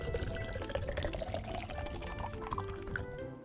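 Water pours into lightweight backpacking water bottles as a close, continuous gurgle, with the pitch rising as each bottle fills.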